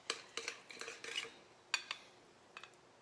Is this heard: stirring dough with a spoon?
yes